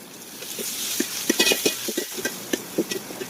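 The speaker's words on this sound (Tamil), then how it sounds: "இப்போ தக்காளி சேர்த்து எல்லாத்தையும் நல்லா வதக்கிங்க" Tomatoes, curry leaves and turmeric being sautéed in a pan for a kilathi fish curry, with a soft sizzle under repeated scraping strokes of a spoon that come in an uneven rhythm.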